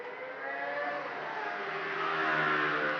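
A motorcycle engine revs hard and close, a loud buzzing drone with layered harmonics that climbs in pitch and grows louder toward the end, with no talking over it.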